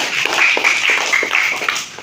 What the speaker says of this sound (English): Give a big round of applause to him again